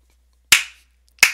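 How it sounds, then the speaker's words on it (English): Two sharp, close hand claps from a commentator ring out about seven-tenths of a second apart, each with a brief decay into silence. "Gotta clap to all eight characters."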